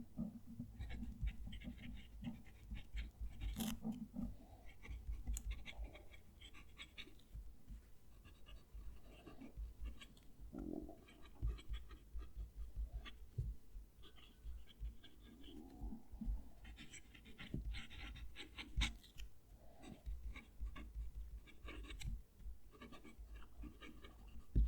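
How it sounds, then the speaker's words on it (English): A fountain pen writes on paper with a faint, close, dry scratching that comes in short irregular strokes, over a quiet room hum with occasional soft bumps. "Going to move the mic down to the page so you can hear the pen write."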